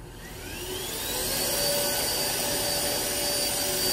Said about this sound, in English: I'm going to try it with the brush shut off. And we're just going to see how it does just with suction only.